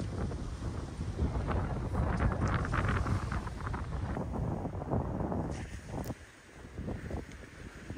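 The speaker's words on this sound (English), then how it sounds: "Getting a little windy out here," Wind gusts buffet the microphone on an Alaska beach near Seward during surf fishing, a loud rumbling roar that rises and falls unevenly, easing briefly before returning.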